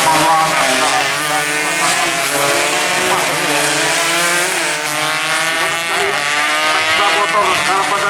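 Yamaha RX King 135cc two-stroke motorcycles with standard exhausts race in a road race, their engines a loud, continuous, rasping high rev with shifting pitch, while an announcer commentates over the noise.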